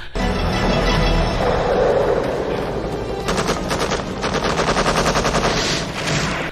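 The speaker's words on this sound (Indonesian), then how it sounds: "Kemudian kru heli melepaskan tembakan balasan ke arah sniper musuh." Machine gun fire from a helicopter crew in the 1993 film Sniper, loud sustained bursts of rapid shots with crashing impacts, running continuously over roughly six seconds amid a dense action soundtrack.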